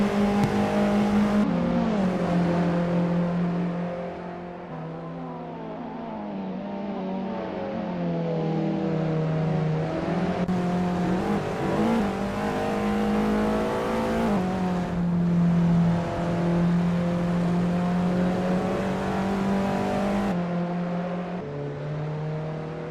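Formula Alfa race cars in a video game race scream continuously at high revs, with repeated gear shifts and pitch drops as engines rise and fall over a long, steady stretch, without talk.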